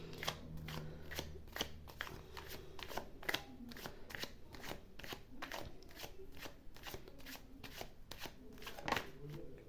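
Tarot cards being shuffled and laid out, a rapid run of crisp riffling snaps and slaps close by, quiet with steady rhythm.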